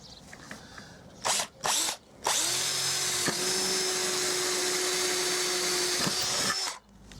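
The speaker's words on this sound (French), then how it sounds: "donc là maintenant on va percer le trou" A power drill bores into a pergola post, starting with two brief spins and then whining steadily at close range for several seconds before stopping.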